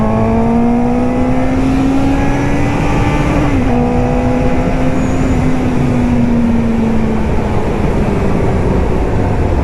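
A loud Suzuki GSX-S750 motorcycle engine holds a high, steady whine at speed, briefly dipping in pitch before climbing again, with constant wind rush.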